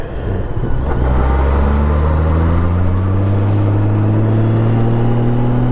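A Honda Goldwing motorcycle engine accelerating hard, its smooth hum rising steadily in pitch through a long pull, loud and close, with no talking.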